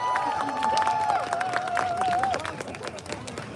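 Crowd at a Sudanese protest in Amsterdam claps and cheers under chanting and a sung melodic voice, dense hand claps filling the background for a few seconds before thinning slightly.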